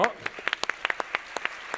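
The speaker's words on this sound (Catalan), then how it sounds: "Un fort aplaudiment pel Sergi!" An audience claps for Sergi at a robotics event, a short burst of scattered, separate claps with voices mixed in.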